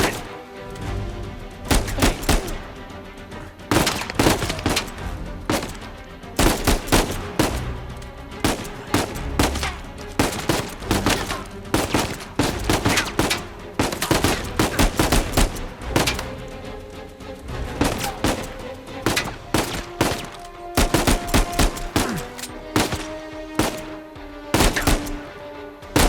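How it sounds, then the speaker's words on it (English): Dense, loud gunfire from the action game Uncharted 4, with rapid bursts and single shots cracking nearly continuously throughout, layered over a steady musical backing. "Nice shooting!"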